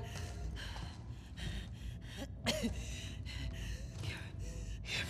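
Labored, ragged breathing from a wounded character in The Last of Us Part II, repeated gasps and snorting breaths over a tense low game ambience, with one sharper gasp midway.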